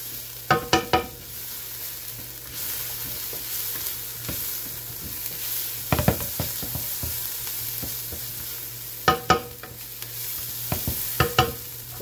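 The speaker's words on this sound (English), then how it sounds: "I just want to sweat the vegetable. Okay, you don't want to burn your garlic." Vegetables and garlic sweat in a frying pan for a Bolognese sauce, giving a steady close sizzle with a few sharp clusters of clacking as the pan is stirred, no talking.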